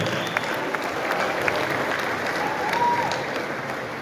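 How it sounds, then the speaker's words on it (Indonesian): A Democratic Party congress hall fills with sustained applause from a large seated crowd for newly elected chairman Agus Harimurti Yudhoyono, dense, even clapping throughout with a few sharper claps standing out. "Kita berikan aplaus kepada ketum kita terpilih Agus Harimurti Yudhoyono."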